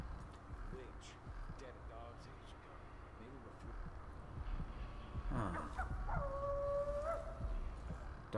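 A dog howls and whimpers with rising, wavering cries in the Dishonored 2 game world, the longest howl near the end, mixed with background game ambience and someone talking.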